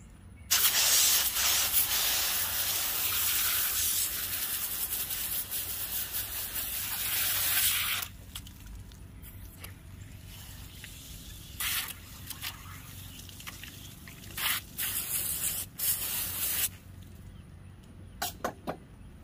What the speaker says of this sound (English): I'm gonna hose this real quick and I'll bring it back to you